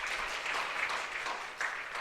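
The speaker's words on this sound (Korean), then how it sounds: "박수 쳐주세요" An audience at a school admissions information session applauds, a soft, steady patter of many hands clapping at once, fairly quiet and continuous throughout.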